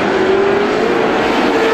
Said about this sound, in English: Joey Ventrilo rounds out your top five as they run.